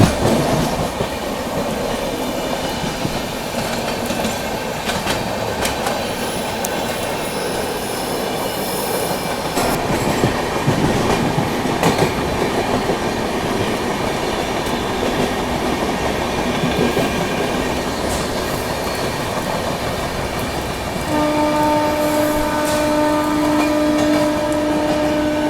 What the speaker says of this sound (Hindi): बिहार संपर्क क्रांति एक्सप्रेस दरभंगा टू नई दिल्ली।